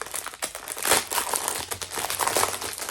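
Crinkly plastic packaging on diamond painting kits rustles and crackles up close as it is pulled open, a dense continuous crumpling lasting a few seconds.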